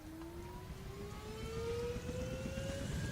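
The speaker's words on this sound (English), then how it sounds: "Let's take off and fly a helicopter." Rising engine drone of a helicopter taking off in the Unturned video game, a steady tone climbing slowly in pitch over a broad rumble, loud and continuous with no talking.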